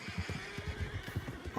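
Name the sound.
horses neighing in the video game RedM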